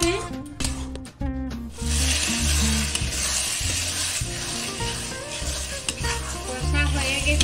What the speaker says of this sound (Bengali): এরপর আমি কষে নেব 5 থেকে 6 মিনিট মটরশুঁটিটা মশলার সাথে মিডিয়াম ফ্লেমের মধ্যে